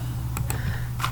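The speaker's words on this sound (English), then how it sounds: "Let me type the district." Keys tapped on a computer keyboard while entering a district name at a vaccine-management web app login: two quick close clicks followed by a softer keystroke, over a steady low room hum.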